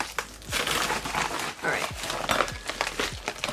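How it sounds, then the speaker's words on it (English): A small plastic packaging bag holding a velvet makeup sponge is handled and opened, giving close, continuous crinkling and rustling with a few sharper crackles over several seconds. "it comes in a cute little plastic bag. And you have to open it."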